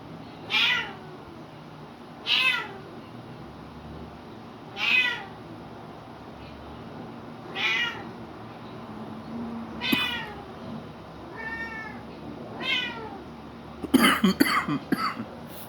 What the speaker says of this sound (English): Cat just started roaring.